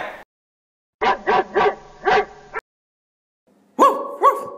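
A human voice imitates a dog barking: a short yelp, then a quick run of four barked syllables, a pause, and two louder woofs, close and alone.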